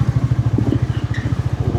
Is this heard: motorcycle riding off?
yes